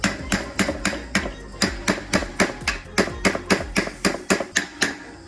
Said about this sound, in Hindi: हम लोग सिंपली छेनी या फिर हथौड़ी का यूज़ करके फ्री व्हील को ओपन कर सकते हैं